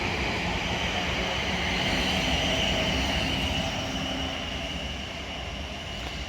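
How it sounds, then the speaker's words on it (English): A South Western Railway service for Barnes, a pair of class 450 electric units, departs West Byfleet station on the main line, a steady rumbling roar with a high whine that holds loud and continuous throughout, no talk. "departing now is going to be the 1656 South Western Railway service to Barnes"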